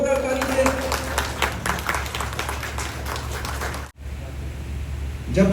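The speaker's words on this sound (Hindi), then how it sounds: "जोरदार ताली से।" Applause from the audience at a youth association felicitation and career counselling event, a steady wash of clapping with a brief break near the end, with voices over it.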